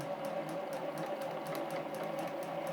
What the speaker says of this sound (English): slip them under the foot, and begin stitching